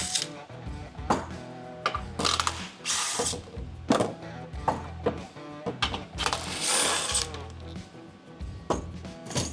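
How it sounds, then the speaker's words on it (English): Ratchet backing out 12mm factory bolts from the splash guards on a 2024 Toyota Tacoma, repeated short bursts of clicking at an uneven rhythm with metallic clinks, close and moderately loud throughout. "These are all going to be 12mm bolts from the factory. Go ahead and remove those."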